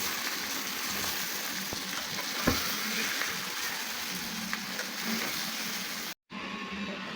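Pieces of rohu fish fry in mustard oil with tomato while being turned, giving a soft, steady sizzle with a few faint clinks before it cuts off abruptly near the end.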